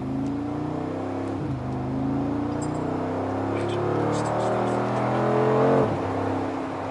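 A Mercedes-AMG G63 Edition 1 accelerating on a highway, its engine note rising steadily under road and wind roar, with a brief dip as it shifts gears before climbing again.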